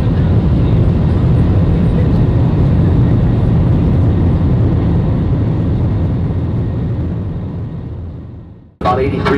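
A loud, steady rumble fills the cabin of an Airbus 321 in flight, then fades away toward the end before cutting out abruptly, followed by a brief sharp noise.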